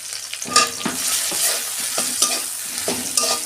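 Spoon stirring tomato and cumin powder into a pot of papaya dal, a run of close scraping strokes at an uneven rhythm over a light sizzle, with no talking.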